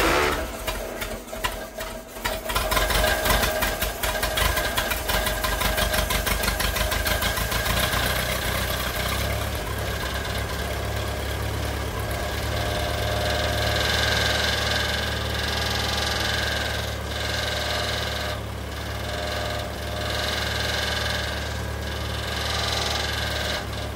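Allis Chalmers WD45 tractor engine running on choke just after its first start, a loud steady chugging idle with rapid mechanical clatter, close up, the beat roughening and stuttering briefly at the start before settling.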